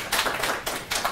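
An audience in a lecture hall claps to welcome a speaker at a legal talk, a brief, close, bright burst of dense hand clapping that swells in uneven waves with no voice over it.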